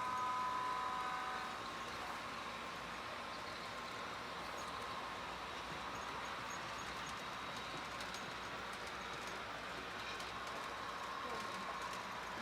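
An HO scale model passenger train runs along a layout's track work, giving a faint, steady rolling rumble with light rail clatter throughout.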